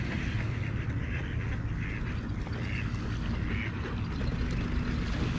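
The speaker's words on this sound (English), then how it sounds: "Man, this is a ton of ducks right here." A large flock of ducks at a park pond quacks continuously, several birds calling over one another at close range with a steady outdoor background and no talking.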